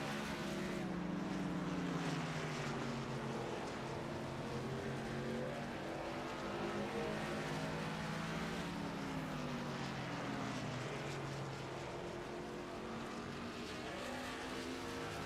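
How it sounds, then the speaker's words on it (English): Race trucks roaring around the Bristol short track during green flag pit stops, a dense, loud continuous engine drone with rising and falling pitch as vehicles pass, steady throughout with faint voices beneath. "As the 8 car pulls onto pit road, we see another round of green flag pit stops."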